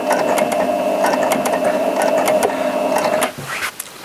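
A Janome 780DX professional sewing machine whirs and clatters steadily for about three seconds, then stops, leaving a few faint handling noises.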